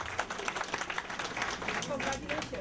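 Audience applause for a foundation director at an event in the USA, a steady patter of many hands clapping at moderate distance with voices mixed in.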